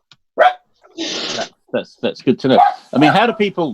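A dog barks indoors in short, sharp yips mixed with whimpers, close and loud, overlapping with people talking.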